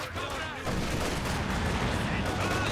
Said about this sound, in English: Heavy mortar now going for the machine gun next, clearing that off real fast.